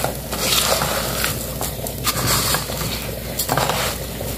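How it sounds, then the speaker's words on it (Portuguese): Steady, loud frying hiss of rice and garlic in a pan, with scraping and clinking of a utensil stirring through it. "fritando aqui o arroz, ó, dando uma fritadinha nele"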